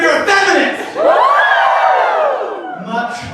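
A stand-up comedy audience cheering and whooping loudly for about three seconds, a dense crowd roar with a few voices rising above it, close and full before fading.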